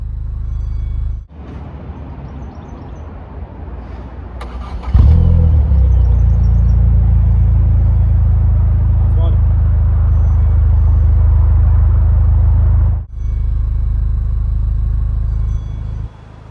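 A 2011 Vauxhall Corsa VXR Blue Edition engine cranks and catches, then settles into a loud, deep, steady idle rumble with a brief rev. It sounds close by, and no one talks.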